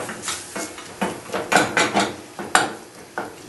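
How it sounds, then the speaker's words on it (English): Minced beef is stirred and broken up in a frying pan, with a run of scraping utensil strokes against the pan in an irregular rhythm over a faint sizzle, close and moderately loud. "Move it about, break it up. Keep it moving so it doesn't burn, doesn't catch on the side of the pan"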